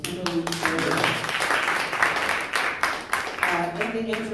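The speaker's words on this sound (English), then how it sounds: "So please clap your hands for Miss Kimberly Fairley." A live theater audience claps and cheers for a guest being welcomed on stage at a podcast taping, with dense, steady applause filling the room throughout.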